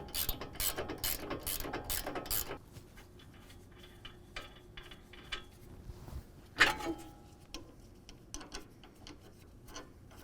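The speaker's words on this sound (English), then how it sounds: "with a 10 millimeter wrench" Rapid ratchet clicks from a 10 millimeter wrench tightening an upper control arm bolt on a 2024 Ford F-150, fast bursts at first, then slower scattered clicks and metallic taps, close and fairly quiet.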